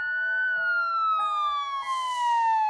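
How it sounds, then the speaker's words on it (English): A police siren wails with a steady falling tone, clear and fairly close, used as a sound effect within a spooky bedtime story. "she could hear the sound of sirens in the distance."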